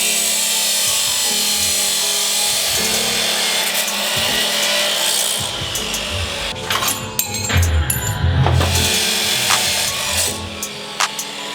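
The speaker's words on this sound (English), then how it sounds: "We have to cut the ends of the muffler off" A tool cuts the ends off a truck's steel exhaust muffler, giving rough grinding and rasping noise that shifts in pitch, with harsher scraping bursts toward the end, loud and close.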